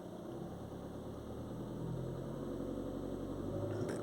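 A Volkswagen Tiguan engine is held at raised revs around 1500 rpm during a diesel particulate filter check, giving a steady, low droning hum that thickens partway through, recorded close with no voices.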